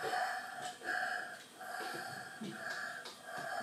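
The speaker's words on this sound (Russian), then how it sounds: "Глубоко вдохни так. Много воздуха, да, и выдохни." Slow, deep breaths drawn in and pushed out, with a slight wheezy edge, repeating steadily and heard up close.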